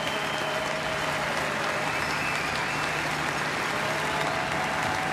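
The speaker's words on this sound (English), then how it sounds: "And some applause in what for several moments had been absolute silence here at Tim Hortons Field" Fans at Tim Hortons Field during a CFL football game between Edmonton and Hamilton break into a standing ovation, a steady wash of distant crowd clapping over a low hum, continuing without pause.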